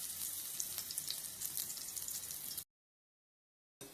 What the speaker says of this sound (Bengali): এই যে পকোড়া স্টাইলে ছোটো ছোটো ভেজে নিচ্ছি